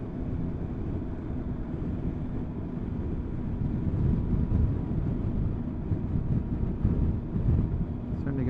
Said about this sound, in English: Starting to get a bit windy.